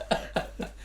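Three short, muffled coughs follow one another at an even pace, close and fairly soft, with a quiet hum underneath.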